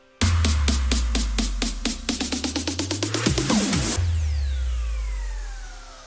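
An EDM clap transition closes a progressive house drop: loud claps repeat evenly, speed into a rapid roll over a falling sub sweep, then cut to a ringing tail that fades out.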